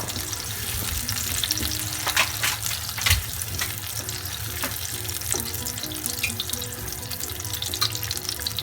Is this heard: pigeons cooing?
no